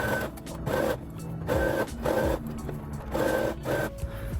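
A sewing machine stitches a dress in short bursts, about six quick runs of mechanical whirring and tapping separated by brief pauses, close and fairly quiet.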